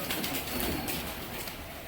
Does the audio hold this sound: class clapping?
no